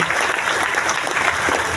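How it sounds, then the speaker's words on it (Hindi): An audience at a large outdoor event in Latehar, Jharkhand breaks into brief, dense, loud clapping, a continuous roar of hands. "वीरेंद्र जी के लिए जबरदस्त ताली होना चाहिए"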